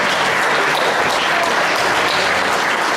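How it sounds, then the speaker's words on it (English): A meeting audience gives a steady, dense round of applause for a group of children, loud and continuous throughout with no break. "if I get a round of applause for these guys"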